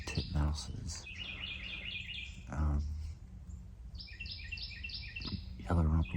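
Carolina wrens and other birds sing at Huntington Beach State Park in January, with repeated bright chirping phrases and trills close by, and bursts of talking overlapping the song.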